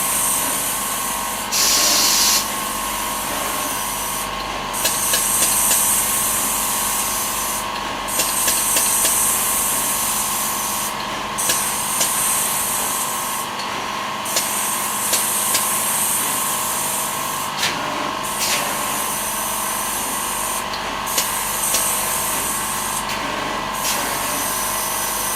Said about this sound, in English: It's the compressor kicking in.